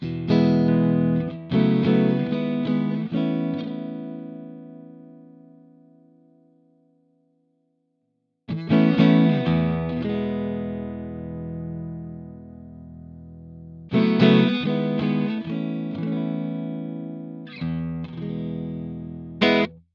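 Clean electric guitar through a Valeton GP-5 modeler playing chords and single notes in three phrases, each ringing out, with a long decaying pause after the first; no voices.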